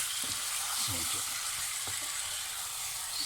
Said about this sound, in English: you want the meat to roast in the pan for about 5 minutes so that the spices catch and infuses with the meat